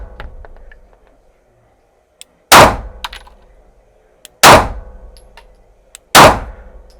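A SIG Sauer P365XL pistol fires three loud, sharp shots a couple of seconds apart, each followed by a ringing clang off steel targets. Faint small clicks and handling noises come in between.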